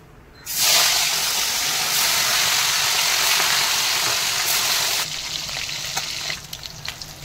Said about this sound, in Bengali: এবারে মাছটা তেল গরম হয়ে গেছে, এবার মাছগুলো ছাড়বো